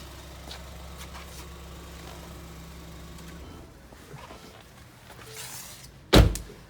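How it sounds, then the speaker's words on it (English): A 2015 Ford Escape SE SUV idles with a low, steady hum until its engine is switched off partway through. A short hush follows, then a sharp, loud thud like a door closing. "Now I'm going to shut the vehicle off."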